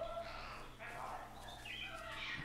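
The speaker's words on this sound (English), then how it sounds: "Why is there so many birds?" Layered chirps and calls from a flock of birds in the video game Kentucky Route Zero, faint and overlapping in a quiet ambient soundscape.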